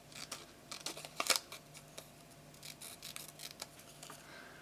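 Scissors snip through 12 x 12 scrapbook paper in a series of quick, close cuts, irregular in rhythm, with one sharper crunching snip early on and soft rustles between.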